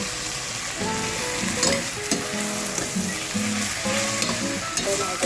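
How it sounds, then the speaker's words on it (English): Bhaji greens being stirred in a pot with a spoon, a continuous loud sizzle under rhythmic scraping and knocking strokes of the spoon against the pot, with faint tonal clatter between stirs. "And now I'm going to take my pot spoon and mix up the bhaji"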